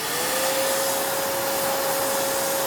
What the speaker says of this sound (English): So right in the back here is a small tabletop vacuum, and I want to turn the switch on.